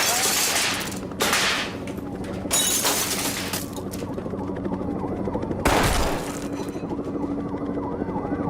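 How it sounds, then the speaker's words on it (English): Gunfire and shattering glass in the school shooting video game Columbine: Zero Hour, with sharp loud bursts at intervals over a continuous wailing siren and background game noise. "He's shooting in the library right now."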